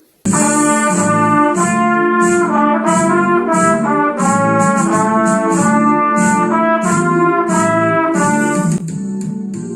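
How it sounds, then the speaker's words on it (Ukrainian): Trumpet leads a bright, rhythmic tune over bouncy accompaniment and crisp cymbal ticks, loud and unbroken until a brief change near the end. "А так звучить труба."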